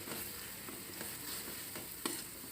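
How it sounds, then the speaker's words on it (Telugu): Masala fries in a pan for fish gravy, a steady close sizzle broken by a few soft scraping stirs, one slightly sharper near the end. "కొంచెం పచ్చి వాసన పోయేందుకు ఫ్రై చేసుకోవాలి."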